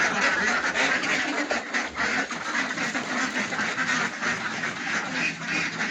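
A flock of Kuttanad ducks quack continuously nearby, many overlapping calls forming a loud, busy chatter that never stops.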